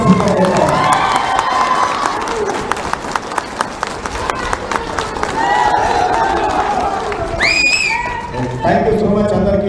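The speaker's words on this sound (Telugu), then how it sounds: "మీరంతా గట్టిగా చప్పట్లతో ఆమోదం తెలిపాల్సిందే." A large political gathering bursts into sustained clapping and cheering, dense and loud throughout, with shouts and whistles rising near the end.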